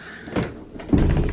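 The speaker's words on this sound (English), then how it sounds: "I'm going to close this door" A household door swings shut at home, a short soft thud followed by a duller knock, close by and fairly loud, with no talking over it.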